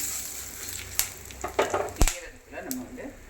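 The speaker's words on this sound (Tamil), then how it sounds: "இந்த சைடில் பெருங்காயத்தூள் போட்டுக்கோங்க அதையும் நல்லா எண்ணெயில் வறுத்துக்கோங்க" Asafoetida powder fries in hot oil for a tomato rasam, giving a steady soft sizzle with a few sharp crackles and stirring knocks close by, no voice over it.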